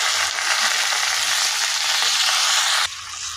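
Chopped onions and greens fry in a hot pan, giving a loud, dense, steady sizzle that drops slightly near the end, with no voices.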